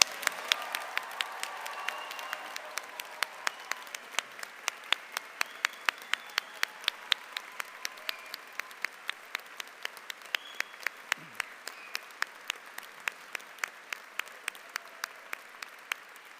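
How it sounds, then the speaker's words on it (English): A university graduation audience applauds the 2026 graduates, a soft, distant wash of clapping with prominent close, rhythmic claps from one or two people standing out throughout. "let us first give a round of applause to the graduates of"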